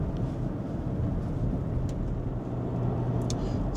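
Steady low hum of a Cadillac SRX with the 3.6 engine, heard from inside the moving car as constant drone and road noise at moderate level, unchanging throughout, no voices.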